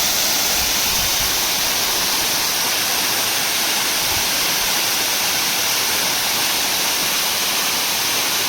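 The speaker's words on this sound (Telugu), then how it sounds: "చూస్తూ ఉన్నారు కదా వాటర్ ఏ విధంగా పడుతుందో" The Gandatri waterfall, in forest on the Orissa border and swollen with rainwater off the hills, roars as a dense, unbroken rushing wash, close and loud with no other sounds.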